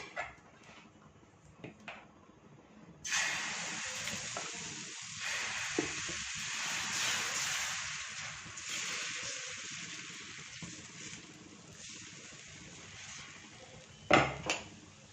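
Besan flour dosa batter hits a hot pan and breaks into a sustained hiss and sizzle, preceded and followed by light clinks and clatter of utensils against cookware.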